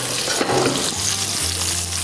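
A T-bone steak sizzles loudly in a hot pan, giving a steady, dense hiss with a low hum beneath it, close by and without speech.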